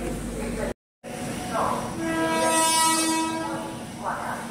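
The Purushottam Express 12802 sounds its horn at the station, a long, loud, steady blast in the middle of the clip over a general platform rumble.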